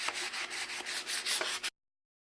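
Wood of a Winchester 1887 buttstock is buffed by hand in quick, rhythmic rubbing strokes, close and soft, for under two seconds before stopping.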